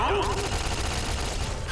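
Turret firing at the player in the Fallout New Vegas video game, a rapid rattling burst of gunfire that stays loud and continuous throughout, with a short voice at the very start.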